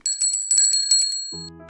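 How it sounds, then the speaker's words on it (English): Bicycle bells ring as an audiobook sound effect, a quick series of bright metallic dings close and loud, followed by a short tonal chime at the end. "Danny, Susie and Rebecca ring their bells."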